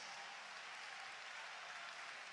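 Church congregation clapping during a rejoicing moment of a worship service, a steady, dense wash of many hands applauding continuously throughout, fairly faint and distant with no voices standing out.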